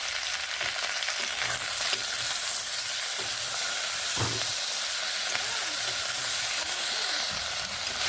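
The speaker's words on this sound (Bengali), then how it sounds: "টমেটোগুলোকেও আলুগুলোর সঙ্গে বেশ ভালোভাবে এইভাবে ভেজে নিচ্ছি" Tomatoes and potatoes fry together in a pan for a Bengali onion-stalk dish, giving a steady, loud, close sizzle with occasional stirring scrapes and no voices.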